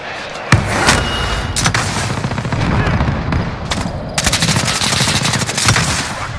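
Video game gunfire in Warzone Plunder mode: rapid automatic bursts and single sharp shots, loud and close, with a steady rumble beneath and a long fast-firing volley near the end.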